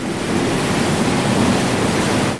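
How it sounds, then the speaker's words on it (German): Huge ocean waves off the coast of Portugal, a loud, continuous rumbling surf roar that swells gently and holds for over two seconds before cutting off abruptly, with no voices over it. "Hier bilden sich die höchsten Wellen der Welt."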